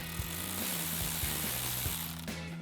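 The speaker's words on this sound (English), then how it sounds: "to tighten this down, we're going to be using a 10mm socket, a ratchet, and a 10mm wrench" Ratchet with a 10mm socket tightening a nut on a vacuum sensor bracket bolt while installing a cold air intake on a 2024-2026 Toyota Tacoma: rapid, even clicking pawl strokes, close and moderately quiet, alone.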